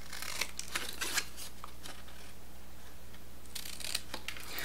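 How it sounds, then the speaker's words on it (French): Small scissors snipping the corners of paper for a scrapbook folio, a few quick crisp cuts spaced apart in a quiet room. "Mes petits ciseaux, ils sont là. Je coupe les angles."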